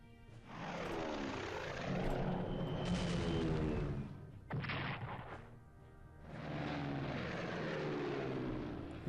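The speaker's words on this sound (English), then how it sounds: "It's a strategic bomber" A strategic bomber in the Strategic Command: World at War video game rumbles with a droning propeller engine sound, rising and falling in two long passes broken by a short explosive burst.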